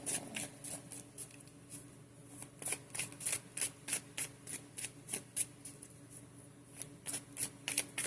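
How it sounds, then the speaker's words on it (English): Oracle cards riffle and snap in quick repeated bursts, a close shuffle with short pauses between rounds, no voices. "Go ahead and get the cards. Good shuffle."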